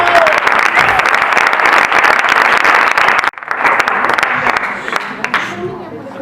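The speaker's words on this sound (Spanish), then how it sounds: "Fuerte ese aplauso para el Señor" A large church congregation claps loudly and continuously, with cheers mixed in, before the applause thins out toward the end.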